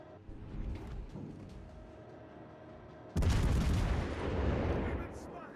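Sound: warship artillery fire in the video game World of Warships: Legends

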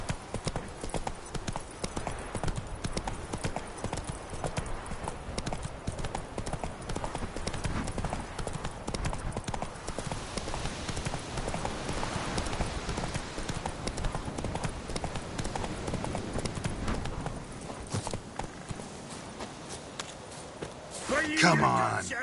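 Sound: horse Roach galloping in The Witcher 3 video game

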